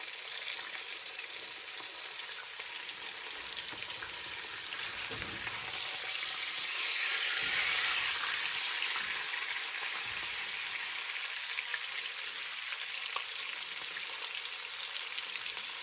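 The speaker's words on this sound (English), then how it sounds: "We ain't trying to cook it here, we just want to give it a good sear." Pork loin seasoned with pink salt and white pepper sears in a hot pan, a steady broadband sizzle that swells slightly mid-clip and holds close and loud with no talking.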